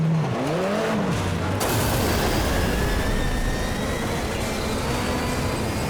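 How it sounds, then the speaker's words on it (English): A car engine in the racing game MotorStorm roars loudly and constantly with a failing transmission, its pitch sweeping up and down early on, then settling into a strained, droning hum with noisy rumble. "the sound of my transmission not working."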